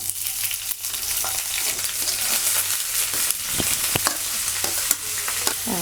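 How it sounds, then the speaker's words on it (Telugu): Sliced onions frying in a pan of hot oil for jackfruit seed curry, giving a loud, continuous close-up sizzle with scattered crackles and the odd stirring scrape. "ఉల్లిపాయలు వేసానండి. వీటిని దోరగా వేయించుకోవాలి."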